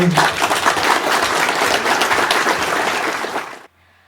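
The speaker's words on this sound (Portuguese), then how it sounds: "Uma salva de palmas." A round of applause from an audience at an agricultural program, loud and dense clapping for about three and a half seconds before cutting off abruptly into near silence.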